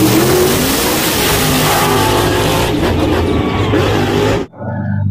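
A toy monster truck's engine revs with a loud, continuous roaring drone that holds for over four seconds, then cuts off abruptly near the end, leaving a quieter low hum.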